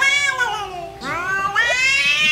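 A pet cat meows loudly and angrily at a stray cat in San Mateo, Rizal. It gives long, drawn-out wailing yowls in a close, continuous run of complaint with rising and falling pitch.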